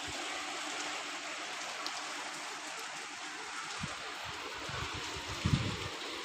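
Steady rain falls outdoors during rainy weather, a broad continuous hiss of drops on surfaces with faint low rumbles and a brief louder patter near the end, no voices.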